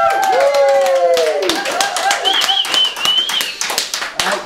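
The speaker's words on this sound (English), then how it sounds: "Can we give him a big round of applause?" Scattered hand clapping from a small group during a community radio interview, sharp individual claps over steady talk and tonal sounds.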